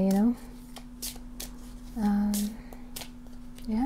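Cards from a Saturn tarot deck being shuffled, with repeated soft riffling and flicking bursts across the clip while a person talks quietly between them.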